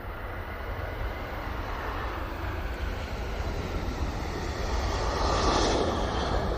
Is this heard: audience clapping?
no